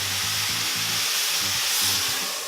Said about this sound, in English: When you put liquid in, it's going to sputter and splash, so don't stand above it.